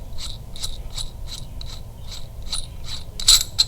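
Adjustable Harley-Davidson push rod being screwed in and collapsed, a rapid regular series of small metallic clicks like a ratchet, close and steady over a low hum, without speech.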